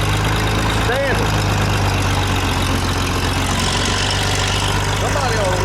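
A John Deere 3010 standard diesel tractor engine runs steadily at a low idle-like drone for the whole stretch, close and loud, with a voice talking over it.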